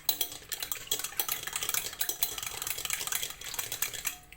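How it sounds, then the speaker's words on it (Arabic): Eggs being beaten in a bowl for a lemon cake: a continuous, busy clatter of a utensil scraping and tapping against the bowl, close and steady throughout. "غادي ناخذوا بول، غادي نديرو فيه البيض، غادي نطربو واحد شويه"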